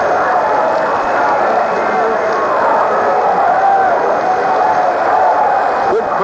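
A crowd fills a rink at a 1976 Eastern Massachusetts high school ice hockey tournament game, a continuous broad murmur of spectators with a commentator's voice faintly underneath.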